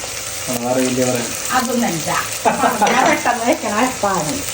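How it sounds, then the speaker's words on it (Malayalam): Chopped onions and green chilies sauté in a hot pan, giving a steady sizzle with stirring throughout while a voice talks over the cooking. "ഇനി നന്നായി വഴറ്റട്ടോ പച്ചമുളകും കൂടി ഇട്ടിട്ടുണ്ട്"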